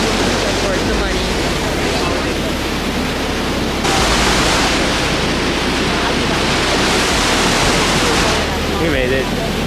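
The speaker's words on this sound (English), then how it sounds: "We're at the waterfall now." A waterfall roars steadily and loudly at close range, a dense unbroken rush of water that fills the whole scene without pause.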